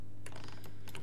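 A few computer keyboard key presses, about three quick, close clicks in a second over a low steady hum, with no talking.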